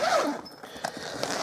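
Zipper being pulled open on an N64 bag, a short close rasping zip followed by soft fabric handling and small clicks, fairly quiet, with no talking.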